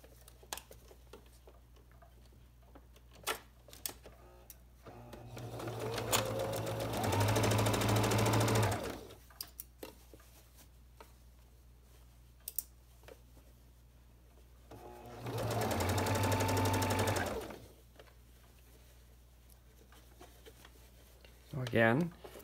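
Sewing machine stitching down a scrub cap seam over covered elastic, running in two loud bursts of a couple of seconds each, with soft handling clicks and a voice talking in the quiet gaps.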